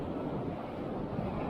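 Ocean surf on the Oregon coast: a steady, rumbling wash of waves mixed with wind buffeting the microphone, continuous and fairly loud, with no voices.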